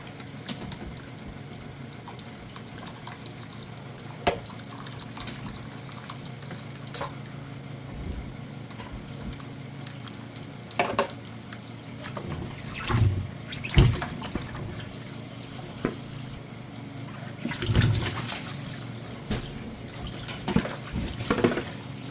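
Tap water runs into a sink as boiled beef shanks for bulalo are rinsed in an outdoor dirty kitchen, a steady wash broken by louder splashing and clattering bursts, with no talk.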